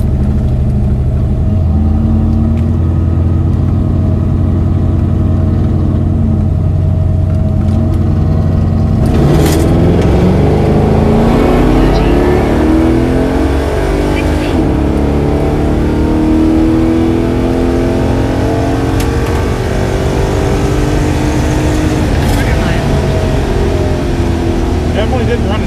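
A drag race car at the US41 dragstrip idles loudly with a lumpy engine note, then revs up sharply at staging and keeps a raised, surging roar close by, with the pitch rising and falling over the rest.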